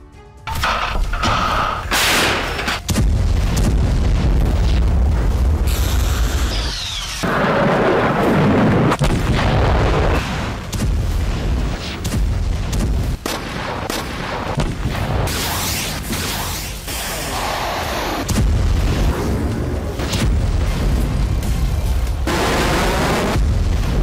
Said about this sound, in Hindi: बीती रात रूस ने यूक्रेन के एक दर्जन से ज्यादा शहरों को बारूद से थर्रा दिया।